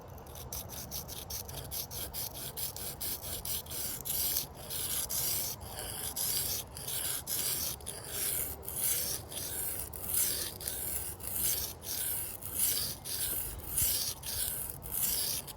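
An Ozark Trail knife blade is drawn across a sharpening stone in steady repeated strokes, a gritty rasping rhythm that starts dense and settles into regular passes about once a second, close up with no talking.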